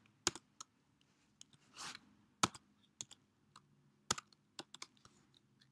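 Sparse, sharp keystrokes on a computer keyboard, single taps and small clusters with gaps between them, plus a brief soft rustle, close and fairly quiet with no speech.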